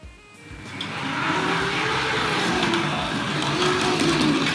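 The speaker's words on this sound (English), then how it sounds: "Now if I give that a little power, we'll be able to get that out of the siding." A Hornby model train on a catenary layout pulls smoothly out of a siding, a small electric motor hum and rolling wheel noise swelling up from near silence and holding steady.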